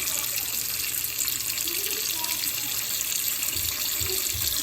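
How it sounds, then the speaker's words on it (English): A kitchen sink bowl fills from the tap during a drain strainer replacement with Kohler parts, giving a steady, close, continuous rush of running water with no break. "then we're going to fill up the bowl with water and see what it looks like."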